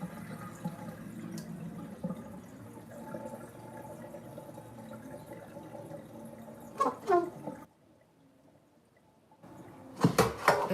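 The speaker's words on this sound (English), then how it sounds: "I'ma clean these greens to make sure they hella clean" Greens being rinsed in a sink, with quiet running and sloshing water and a few sharper splashes and drips near the end, close and fairly soft.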